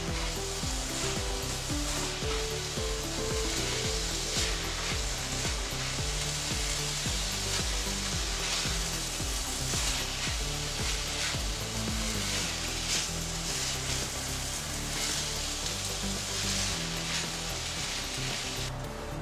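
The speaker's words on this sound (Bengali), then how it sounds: "এখন একটু চালটা ভেজে দিব।" Rice frying in a pot for keema dum biryani, a steady loud sizzle that continues without pause, with intermittent stirring scrapes and a constant background hum.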